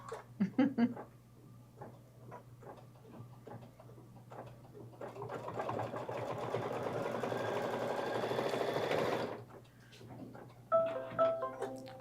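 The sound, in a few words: embroidery machine stitching a Kimberbell crossbody bag design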